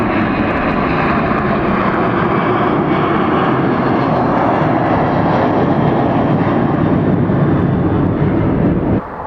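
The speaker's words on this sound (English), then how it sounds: "Yes, that is A330 all the way. Delta Airlines A330, probably going to Europe somewhere." Loud, close roar of a Delta Airlines Airbus A330 jet passing overhead at Atlanta Hartsfield-Jackson airport, a dense steady engine rumble and rush filling the whole stretch before dropping off abruptly at the end, with no talk.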